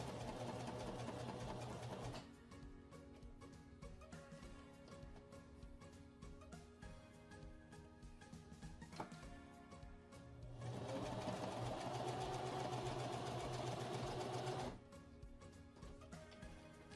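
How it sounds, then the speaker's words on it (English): A Juki HZL-29Z domestic sewing machine stitches fabric in two close, steady whirring runs, broken by a quieter pause while the presser foot is lifted and the fabric turned. "push the presser foot back down, and continue sewing"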